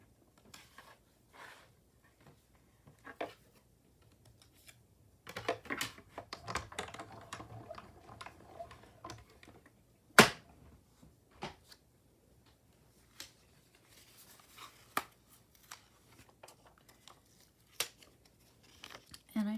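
A die cutting machine cranks a sheet of card partway through to cut a circle for a painted pink roses window card, giving soft intermittent clicks, rustles and crinkles with one sharp snap midway, close and fairly quiet.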